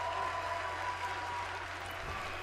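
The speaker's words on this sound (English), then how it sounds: "Crowd chanting, "This is awesome," once again." A video game arena crowd from WWE 2K19 roars and applauds in a dense, continuous wash of cheering and chanting, loud and sustained throughout with no clear gaps.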